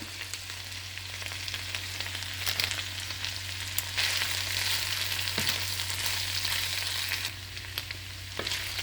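Beef mince with quail eggs fries in a pan with a steady, close sizzle, broken by sharper scraping and clicking as a utensil stirs the mixture, and no one speaks.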